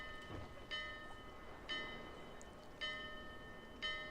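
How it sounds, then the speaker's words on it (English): A large bell on a top platform in the Dark Souls 2 video game rings four times at an even, unhurried pace, each strike bright and ringing out over a faint background. "Eventually, the aim of this is to get up to this top platform and to ring this bell."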